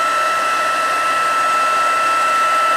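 A heat embossing tool melts embossing powder on a stamped craft image, giving off a loud, constant blowing whoosh like a hair dryer, held in one place with no talking.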